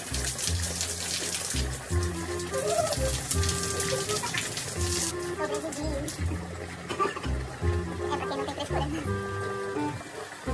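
Water running at a rustic campsite shower, a steady gush heard beneath continuous background music with rhythmic low tones.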